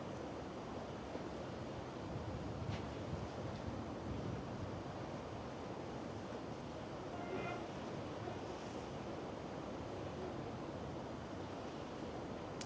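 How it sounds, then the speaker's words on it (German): Waterfalls in a Norwegian fjord heard from the deck of the cruise ship AIDAprima, a steady broad rushing wash of falling water mixed with wind buffeting the microphone, with no clear talking. "Das ist so schön, dass man diese Wasserfälle hört."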